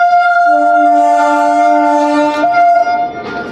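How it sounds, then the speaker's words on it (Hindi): A train horn blares one long, loud, sustained tone close by, steady for about three seconds before it breaks off into rumbling rail noise. "बहुत हॉर्न मार रहा है।"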